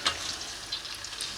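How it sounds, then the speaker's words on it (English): Homemade potato fries bubbling in hot oil, a soft, steady crackling sizzle with small pops, fairly quiet and close, with no voices. "Once they start to brown up, they will sizzle"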